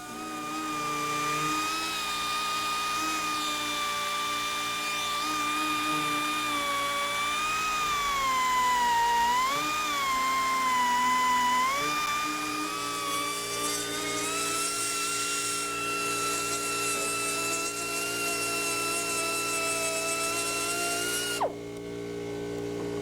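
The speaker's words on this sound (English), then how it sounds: "Use an air grinder or a drill to make holes in the fuel tanks where the caps and fuel gauge sender will go." Air grinder or drill cutting holes in roughly 3/16-inch-thick fuel tank walls for the caps and fuel gauge sender on a Rotorway helicopter kit, giving a continuous high whine whose pitch dips and wavers, close and steady.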